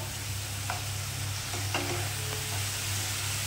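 Spice paste fries in a pan for a vegetarian stuffed pointed gourd curry, giving a steady, even sizzle with a few faint scraping stirs over it.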